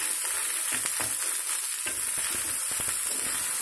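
Chinese restaurant-style egg fried rice cooks over a high flame, filling the scene with a loud, dense roar of frying and sizzling, while quick scraping and tossing strokes of a utensil cut through it close by.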